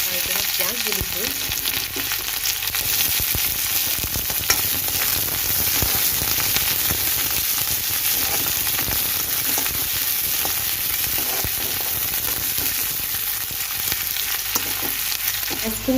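Sliced onions fry in a small amount of oil, giving a dense, continuous sizzle with scraping stir strokes all the way through.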